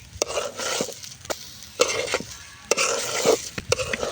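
Rice for polao fries in oil with bay leaf, cardamom, cinnamon, ginger, garlic and cumin paste in a pot on a clay stove, a soft steady sizzle broken by repeated sharp scrapes and knocks of stirring.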